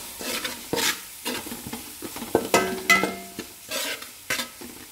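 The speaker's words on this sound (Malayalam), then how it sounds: "അതൊന്ന് നന്നായി ഒന്ന് വഴറ്റി അതിൻ്റെ ആ പച്ചച്ചോയൊക്കെ ഒന്ന് മാറുന്ന വരെ നമ്മളതൊന്ന് വഴറ്റിയെടുക്കണം" Crushed spice mix for mango ginger pickle sautéing in oil: sizzling under repeated close scraping and stirring strokes in an uneven rhythm, with occasional light metallic clinks.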